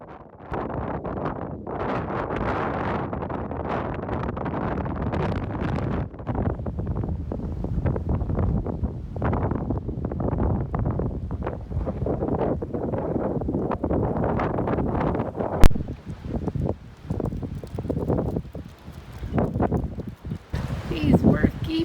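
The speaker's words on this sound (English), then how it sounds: "the wind began kicking up, and it did kick up a fuss for some time most of the day" Strong gusting winter wind in Texas, gusts up to 50, buffets the microphone in continuous rumbling bursts, with rustling and a sharp knock partway through.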